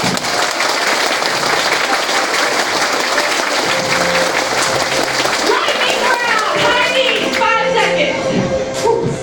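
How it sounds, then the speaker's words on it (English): Hard, fast claps ring out during an exercise workout, a rapid crackle of hand claps with voices talking and calling over it, then thinning toward the end. "Next up, hard claps."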